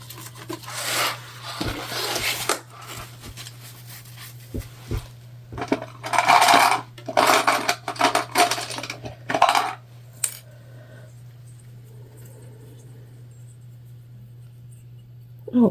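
Metal sewing clips clatter and rub as a structured Amelia bag is handled at a Juki sewing machine, a run of close, busy clinks and scrapes in bursts that fade into quiet near the end.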